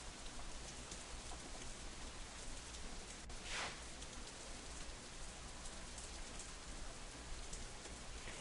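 Rain falls steadily in the visual novel Katawa Shoujo, a dense, even hiss of drops on surfaces with a brief swelling whoosh partway through, no voices.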